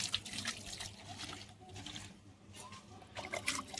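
Running water splashes and trickles as fresh fish are washed in a sink, a steady close wash of flowing, gurgling water with bursts of stronger splashing, no voices.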